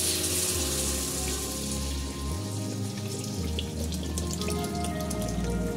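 Water pours into a pan of spiced onion-stalk gravy for a Bengali bata fish curry, a steady close splashing gush that continues throughout.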